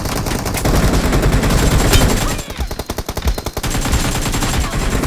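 Automatic gunfire in a shooter video game, with loud, close bursts of rapid shots that rattle almost continuously, briefly breaking into sharper separate rounds before resuming.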